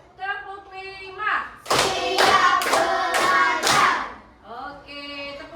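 A class of schoolchildren in an Indonesian primary school claps a short rhythmic pattern in several quick bursts, loud and close, with a teacher's voice speaking before and after.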